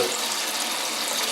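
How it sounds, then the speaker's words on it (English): Cold water runs from a kitchen tap into a sink, a steady broadband rush without a break or any voices, close and fairly loud throughout. "Right, so I'm filling up the sink with cold water."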